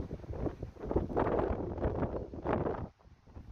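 Gusty wind buffets the microphone over a newly seeded lawn, a loud, continuous rumbling roar that swells and eases in waves before briefly dropping away near the end.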